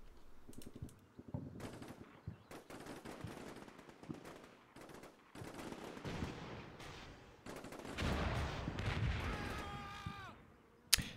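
Dense bursts of automatic gunfire and scattered rifle shots from a Combat Mission: Black Sea battle, with a Russian assault on a checkpoint, crackling continuously at close range and swelling into a loud, heavy barrage near the end.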